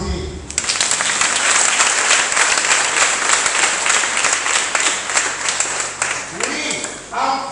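A crowd at a church anniversary celebration for Sainte Lucie breaks into sustained applause, starting suddenly and holding loud and dense for several seconds, with a few voices rising near the end.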